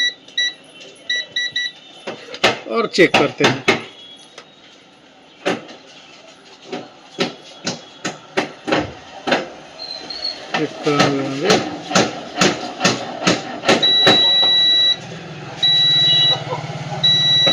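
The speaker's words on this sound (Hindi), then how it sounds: "चलिए हम बीप मोड में रख लेते हैं मल्टीमीटर को" A multimeter set to continuity beep mode while probing a Samsung A13 (A137F) charging circuit, giving short intermittent beeps and one steady tone late on, among clicks and handling noise, with someone talking over it.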